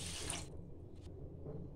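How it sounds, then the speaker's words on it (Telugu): A quarter litre of water poured onto a kilo of sugar in a pan to start a syrup for homemade gulab jamun, a short bright splashing gush that stops after half a second, leaving a faint low hum. "1 కిలో పంచదారకి 1/4 లీటర్ వాటర్ అయితే పోసేయాలి అందులోని."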